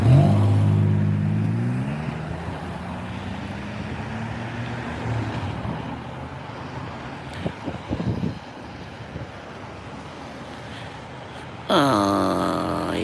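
Road traffic passes at a police roadside stop. A vehicle swells loudly at the start, and steady road and wind rumble follows. A few brief knocks come partway through, and another vehicle rushes close by near the end. No one speaks.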